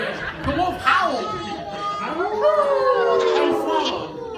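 Howling with rising and falling wavering tones, rendered like a wolf in a storytelling performance, several long howls, loud and close, with voices chattering and chuckling around them; the howls may come from a person imitating the wolf.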